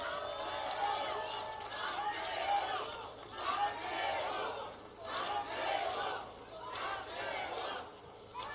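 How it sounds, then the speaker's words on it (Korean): A crowd at an outdoor political election rally in Yongsan, Seoul cheers, shouts and claps in rising and falling waves. A voice speaks over the noisy gathering. "여러분 힘찬 박수 부탁드립니다"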